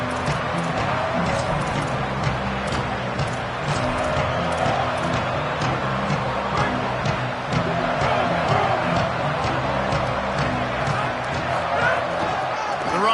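A loud, steady roar from a football stadium crowd fills the air as the defense takes the field, dense and unbroken throughout.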